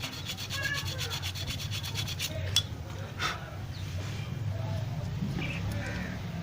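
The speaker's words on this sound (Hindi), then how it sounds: "इसमें ऐसे रेगमाल मार देने से ये साफ़ हो जाता है" Sandpaper rubbed back and forth over the clutch contact points of an electric motor during repair, a steady scratchy rasping up close with a soft low hum underneath.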